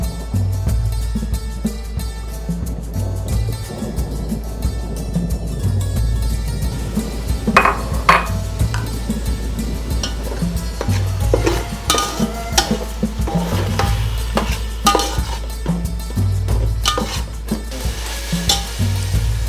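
Tomato puree is stirred into onions and ginger garlic paste frying in a pan, a steady close sizzle under repeated scraping and clinking of a spoon against the pot.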